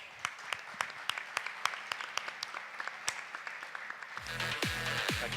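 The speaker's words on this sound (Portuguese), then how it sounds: "Uma salva de palmas" Audience applause for a speaker being introduced at a presentation, with scattered hand claps for about four seconds before a voice begins talking over the fading clapping.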